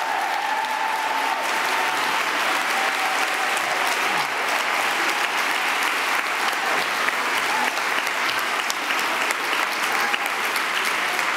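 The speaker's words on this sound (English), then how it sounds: "Stand up and accept our applause." Steady applause from a large audience at the 2020 Sundance Film Festival, a dense continuous patter of clapping that holds at an even level throughout.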